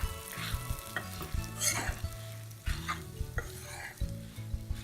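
Dry red chillies and sambar powder spices with asafoetida roast in a pan, a soft sizzle under repeated scraping strokes of a spatula against the metal, uneven and close, with no speech.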